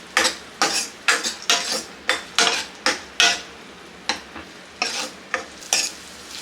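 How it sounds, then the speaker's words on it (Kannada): Small sabudana (sago) pearls frying in ghee as a spoon stirs them in the pan, giving a steady run of about fourteen sharp, close scraping strokes over a quiet sizzle. "ಈಗ ಇದನ್ನು ಇದೇ ತುಪ್ಪದಲ್ಲಿ ಚೆನ್ನಾಗಿ ಫ್ರೈ ಮಾಡ್ಕೋಬೇಕು."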